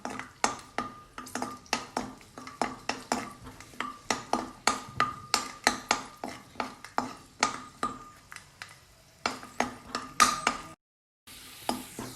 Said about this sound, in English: Stir until golden brown.